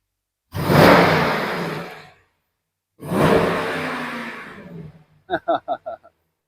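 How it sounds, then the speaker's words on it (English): A 2022 Dodge Durango SRT 392 engine is revved hard twice in long, roaring bursts that each fade out, followed by a quick run of short, sharp throttle blips, all loud and nearby. "It's got some heat in it if you want to give it some revs."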